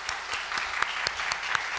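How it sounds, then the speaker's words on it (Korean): A church congregation claps in unison to welcome young newcomers at a Sunday morning service, sharp regular beats about every quarter second over a softer bed of scattered applause. "여러분 크게 환영하며 박수로 하겠습니다."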